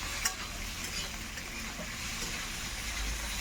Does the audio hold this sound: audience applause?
no